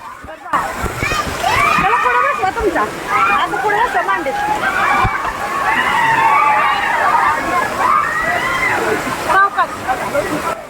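Steady splashing and sloshing as people play in water on a one-day trip, continuous and close, with children's and adults' voices mixed in throughout.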